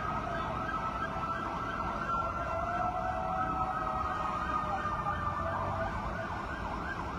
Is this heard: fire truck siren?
yes